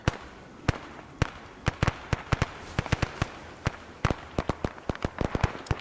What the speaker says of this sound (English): they're trying to do a machine gun strike